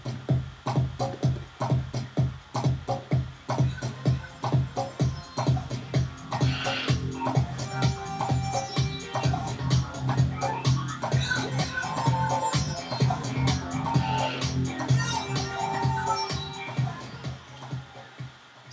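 Two electronic dance tracks are beatmatched in a DJ mix, the slower one pitched up to the faster tempo, with a steady pounding kick pattern driving throughout and layered synth textures building over it, loud and continuous.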